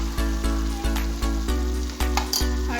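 Spice masala fries loudly in a pan as coriander powder is added for a vegetarian green jackfruit curry. A steady, close sizzle carries a faint repeating pulse throughout, with no talking.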